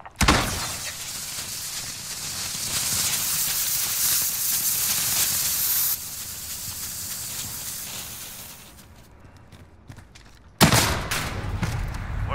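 Shotgun fire in a video game blasts loud and near, followed by a sustained roar of heavy gunfire and hiss, then a lull before another sharp burst.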